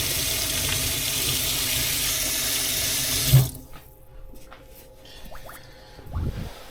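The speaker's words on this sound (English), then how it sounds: "Let's wash this chocolate off my hands." Water from a kitchen tap runs loudly as chocolate is washed off hands, then stops abruptly, leaving quiet splashes and drips as the hands are shaken.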